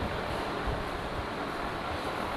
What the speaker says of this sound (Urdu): پنکھا آواز مسئلہ بنائے گا،